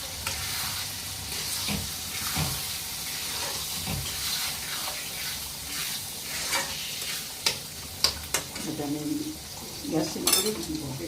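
Mutton liver frying in oil in a pan makes a continuous sizzle, with stirring scrapes and clinks of a utensil against the pan growing more frequent toward the end.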